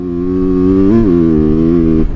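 A 2025 Yamaha YZ250FX off-road motorcycle engine drones loudly up close, holding a steady rev with a brief rise in pitch midway before cutting off sharply.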